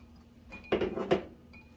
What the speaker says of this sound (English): We're going to mix our sugar in here with our milk.